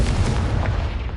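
Confringo fire blast spell exploding in Hogwarts Legacy, a single loud, deep booming burst that rumbles and fades over about a second.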